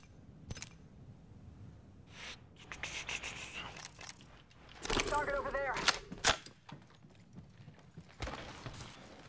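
Gunfire in a battle royale video game: scattered sharp shots and short bursts, some close and loud, others more distant, with game sound effects between them and no clear talking.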